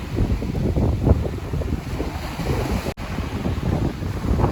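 Rough sea waves break and wash against a fishing spot in choppy, windy weather, a constant rushing surge with heavy wind buffeting the microphone, loud and close, with no voices.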